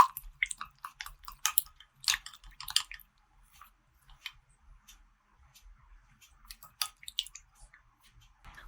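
A mixture of aloe vera gel and water is stirred in a small container, giving irregular wet clicks and soft squishy taps, close and fairly quiet, in bursts with short pauses.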